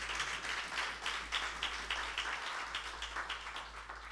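A church congregation applauding during a worship service, a fairly faint, steady patter of many hands with a rhythmic pulse, over a low constant hum.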